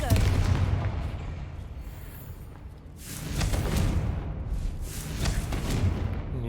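Explosive Confringo spell blasts in the Hogwarts Legacy video game, a run of loud booming, crackling bursts rolling one after another with dense low rumble throughout.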